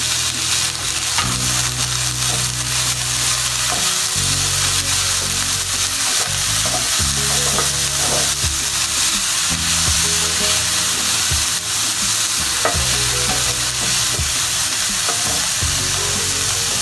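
Karadi, or bamboo shoot, fries in a hot pan, sizzling loudly and continuously while a utensil scrapes and stirs it in repeated strokes, with no voices.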